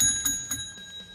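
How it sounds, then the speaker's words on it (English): A small bell rings with bright, sustained tones, struck twice in quick succession and left to ring out clearly and alone. "You deserve another bell ring."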